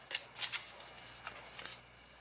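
A deck of reading cards is shuffled in a few quick riffling bursts, soft and close, with no talk over it.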